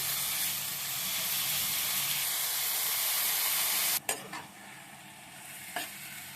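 Onions, green chillies and curry leaves fry and sizzle in a hot pan for an egg fry dish, a steady loud hiss with a few sharp stirring clatters near the end, no talking.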